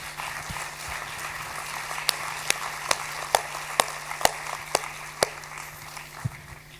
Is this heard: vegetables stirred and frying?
no